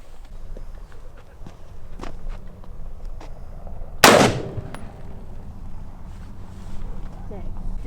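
A single sharp crack of a 300 Blackout rifle, fired at a Tannerite target outdoors, cuts through low background rustle and ambient noise. The report is loud and close, with a short tail.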